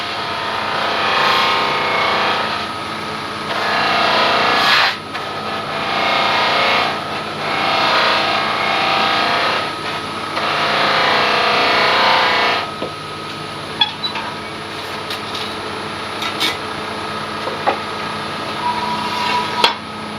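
A wooden bowl being roughed down on a wood-turning lathe, with repeated bursts of loud, abrasive scraping against the spinning wood, followed by a quieter stretch of light tool taps and handling noise.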